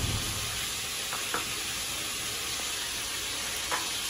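Parshe fish rubbed with salt and turmeric fry in hot oil in a home kitchen, giving a steady, loud, close sizzle with a few faint clinks of stirring.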